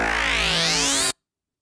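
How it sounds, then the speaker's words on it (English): A single synth bass made in Serum, driven by two LFOs, sweeps upward for about a second, loud and close, then stops abruptly into silence. "So our second"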